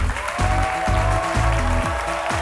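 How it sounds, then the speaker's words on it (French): Loud, steady applause from an audience honouring the writer Mamie Coco from Grenoble, a dense continuous clatter of many hands, with a sustained musical tone running underneath. "Je voudrais qu'on applaudisse très fort Mamie Coco."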